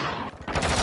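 Dense automatic gunfire and bursts of shooting in a Call of Duty Mobile match, loud and continuous, with a short dip in the middle before the fire picks up again.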